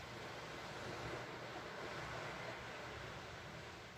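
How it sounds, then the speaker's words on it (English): Ocean waves wash in a steady, broad rushing surf at a remote beach, continuous and moderately loud, mixed with wind buffeting the microphone and no voices. "I don't know if you can hear the waves in the background"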